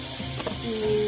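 Mushroom adobo seasoned with pepper and salt sizzles steadily in a pan while being stirred, a close, continuous frying hiss with soft scraping underneath.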